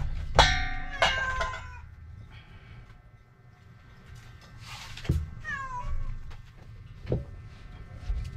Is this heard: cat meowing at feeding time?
yes